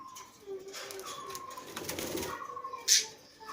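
Pet budgerigars moved into a cage, heard as soft chirps and rustling with a brief burst of wing flapping, fairly quiet and close, no talk.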